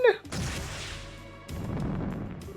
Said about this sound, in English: She's got an orbital cannon?